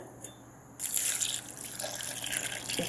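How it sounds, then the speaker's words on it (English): Water pours steadily into a mixer jar with grated coconut and cumin for coconut chutney, a close, continuous trickle starting abruptly after a brief quiet moment. "And then goes the required amount of water."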